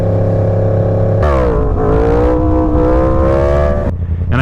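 A Yamaha MT-10 motorcycle launching hard and accelerating, engine loud and close with a rising roar that steps up through gear changes, then eases off at the end.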